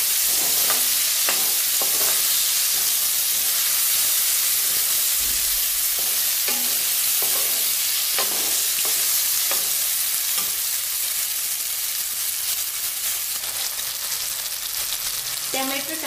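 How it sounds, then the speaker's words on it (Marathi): Chopped tomato and green chilli sauté in a pan for a Maharashtrian horse gram curry, a steady close sizzle under repeated scraping stirs with no voices. "यामध्ये 1 मोठा टोमॅटो चिरलेला टाकते आणि हा सुद्धा मी आता परतून घेणार आहे"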